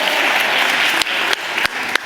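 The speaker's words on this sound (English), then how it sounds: "give them a round of applause for each other" Loud, close applause from a TEDx talk audience at the University of Leeds, a dense wash of clapping with a few sharp individual claps standing out near the end.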